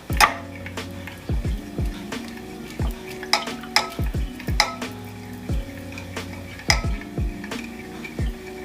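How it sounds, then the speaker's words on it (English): A spoon stirs collagen peptides into a drink in a glass or mug, with repeated close clinks and scrapes against the sides in an irregular, quick rhythm, fairly soft and with no talk. "make sure that you mix it up really well"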